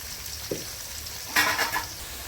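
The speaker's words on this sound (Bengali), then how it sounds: "আলুগুলো লাল লাল করে ভাজতে দেবো।" Continuous low sizzle of potatoes frying in oil, with a soft knock and a brief louder crackling burst partway through.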